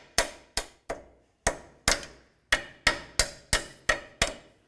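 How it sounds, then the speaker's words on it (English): About eleven sharp metal hammer blows, loud and close, peen a cotter pin over a nut while a front lower control arm is replaced on a 2002-2006 Honda CR-V. Each strike rings and fades quickly, in a steady but slightly uneven rhythm. "We're going to slide it through and peen it over so it locks in the nut and it can't loosen on us."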